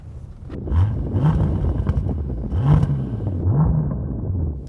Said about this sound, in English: Go on, rev your engine.